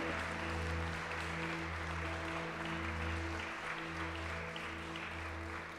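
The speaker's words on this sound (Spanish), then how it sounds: "Vamos a darle un fuerte aplauso al Señor." Steady applause from a church congregation, sustained for several seconds over a low musical drone, fairly loud and continuous without pause.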